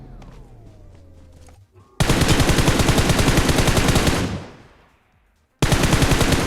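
Rapid automatic gunfire in a mobile shooter game, loud sustained bursts of machine-gun fire that cut off abruptly, fade to near silence, then resume.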